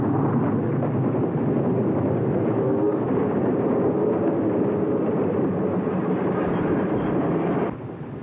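A 1951 Virginian Railway Navy personnel transfer train hauled by Mike-type steam locomotive 448 at Tidewater Junction rumbles past in a loud, sustained roar that ends abruptly and drops to a quieter tail.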